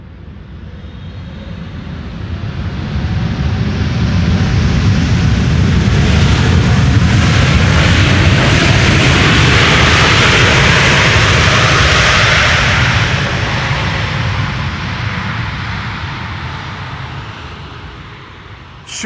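A China Southern Cargo airplane landing on the Polderbaan runway at Schiphol, a loud jet roar that swells as it approaches, peaks for several seconds and slowly fades, with no talk.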